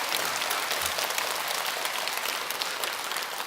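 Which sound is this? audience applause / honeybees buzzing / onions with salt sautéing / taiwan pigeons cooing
audience applause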